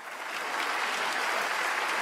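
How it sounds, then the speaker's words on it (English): Canned applause from a livestream soundboard, a steady wash of clapping from a crowd that rises in the first moment and then holds at an even, moderate level for a couple of seconds with no talking. "We got applause soundboard."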